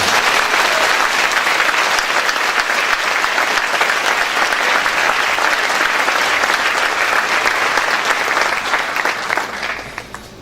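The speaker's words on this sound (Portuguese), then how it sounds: "Você pode dar uma salva de palmas para esse Deus?" A large crowd at an international church conference in Maringá, Brazil, claps in a thick, sustained roar of applause for about ten seconds before it begins to thin out at the very end.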